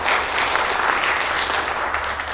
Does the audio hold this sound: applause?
yes